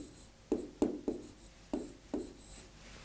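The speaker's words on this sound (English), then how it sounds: "How do we write it? Bink. This is how we write it." Chalk or marker strokes writing a short word by hand on a board during an English lesson, heard as five quick tapping strokes with short scratchy tails, close and fairly quiet, with no talking.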